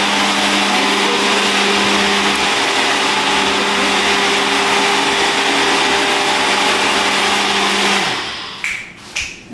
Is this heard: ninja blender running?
yes